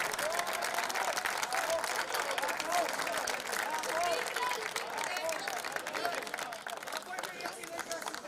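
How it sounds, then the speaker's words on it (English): Steady crowd applause fills a sports arena after a European Minifootball Federation Champions League tournament, dense, continuous clapping at moderate distance with voices and cheering mixed underneath, easing slightly toward the end. "so big applause for them."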